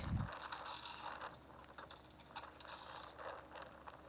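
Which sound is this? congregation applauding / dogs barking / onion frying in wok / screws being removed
screws being removed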